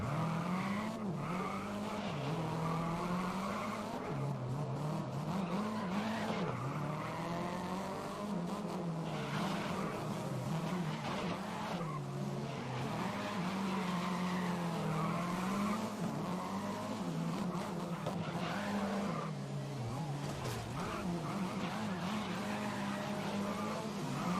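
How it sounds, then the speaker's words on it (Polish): A race car in the video game Grid 2019 slides and skids on a hillclimb course at Okutama, fitted with oversized spoilers. Continuous tire squeal rides over a loud, droning engine whose pitch rises and falls for over twenty seconds. "Ma milion spoilerów większych od samego auta, a się tak właśnie ślizga."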